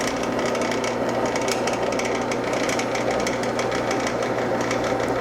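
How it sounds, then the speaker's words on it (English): A power drill bores through the metal shaft of a Homelite weed eater, a steady close grinding whir with rapid rattling chatter throughout, loud and continuous with no talking. "now we're ready to drill through the shaft"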